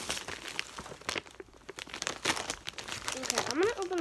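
Plastic packaging around balloon pet toys crinkles and crunches in quick irregular bursts as it is opened close by, while a person talks over the rustling.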